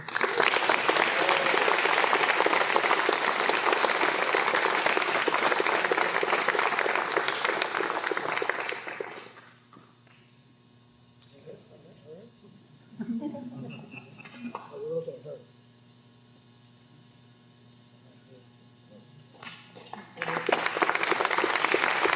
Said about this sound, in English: Applause for soon-to-be Second Lieutenant Mason Superstar Baird.